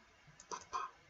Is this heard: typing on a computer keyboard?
yes